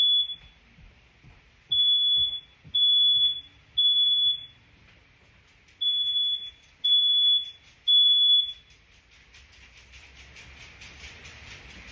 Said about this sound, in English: Freaking alarms going off.